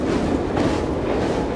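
Train rumbling along the rails in Assassin's Creed Syndicate, a steady, loud, dense roar with faint clickety-clack of wheels, continuous throughout with no voices.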